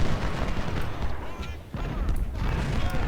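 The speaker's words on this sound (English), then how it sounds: "Heavy artillery fire seems to come out of this direction" Heavy artillery fire in Ultimate General: Civil War rumbles in a continuous barrage of deep booms and cracks, loud and dense throughout, with a brief lull midway.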